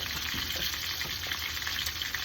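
Fish frying in a pan for a Jamaican Sunday dinner of fish rundown: a steady, close, even sizzle and crackle that holds throughout, with no talking.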